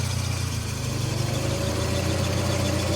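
A 1991 Saab 900 Carlsson, fitted with the red APC box for 185 horsepower, idles with a steady, close, low engine hum and no talking over it.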